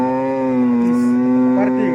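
A dairy cow at a cattle market lows in one long, drawn-out moo, loud and close, with faint market noise behind.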